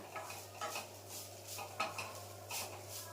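Soft stirring and scraping of rice pitha frying in a pan, with light clinks of a utensil against the metal and a faint sizzle, quiet and close, over a steady low hum.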